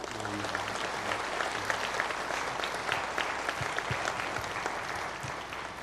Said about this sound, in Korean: 일어서시면 우리 박수로 환영합시다